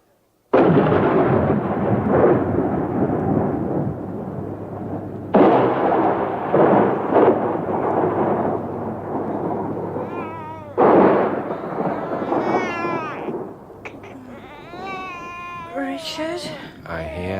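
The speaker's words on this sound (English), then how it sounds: "Oh, the storm must have woken him." Thunderstorm sound effect in a horror audio drama, loud rolling thunder cracks and rumbles swelling and fading across the scene, with voices speaking and a child's cry over the storm toward the end.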